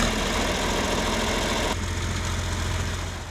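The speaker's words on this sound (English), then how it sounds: "We have behind us a 1972 John Deere 4020 power shift." A 1972 John Deere 4020 Power Shift tractor idles nearby, its engine giving a steady low rumble that eases slightly toward the end.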